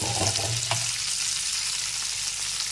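Chicken legs fry in a pan with a loud, continuous hissing sizzle that stays steady throughout, close and unbroken.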